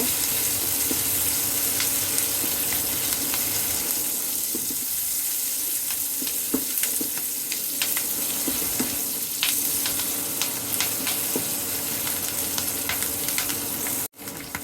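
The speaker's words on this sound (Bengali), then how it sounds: "পেঁয়াজ রসুন হালকা ব্রাউন হয়ে আসছে।" Onion and garlic fry in a pan, browning for a Bengali neem-leaf brinjal chorchori with eggplant and potato to follow. A steady, fairly loud sizzle hisses close up for the whole stretch, with scattered crackles and no voices.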